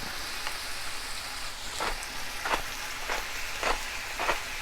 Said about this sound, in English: I'm just going to throw the ground beef right in the pan